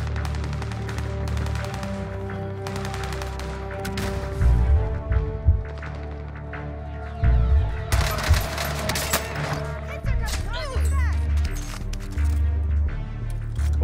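Bursts of automatic weapon fire in the shooter game Warzone Pacific, loud and near, with sharp shots and clattering impacts over steady background game ambience.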